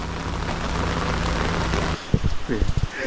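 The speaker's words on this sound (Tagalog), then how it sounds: "Malakas ang ulan at bangin ang nasa likuran namin" Heavy rain pours steadily around a campervan parked near a ravine, a dense continuous hiss with a low engine-like drone, then breaks off as brief voices and knocks come through near the end.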